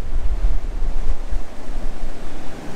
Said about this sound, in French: La mer est super agitée, mais il y a un peu moins de vent que je pensais.